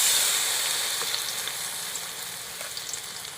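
Prawns frying in mustard oil in a pan, a loud, steady hissing sizzle close up that gradually eases slightly in loudness.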